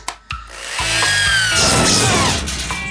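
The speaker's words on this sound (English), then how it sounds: "Drill." Cartoon power drill sound effect from a Dennis and Gnasher cartoon: a loud whirring drill that kicks in after a sharp click and runs steadily with a rising whine for a few seconds.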